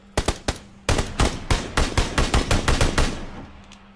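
Gunfire in PUBG (PlayerUnknown's Battlegrounds): three quick opening shots, a pause, then a steady run of about a dozen loud, evenly spaced cracks close by, ending with a fading echo.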